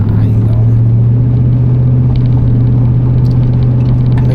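A car on the road heading home, its loud steady engine rumble and road noise filling the cabin continuously with little variation.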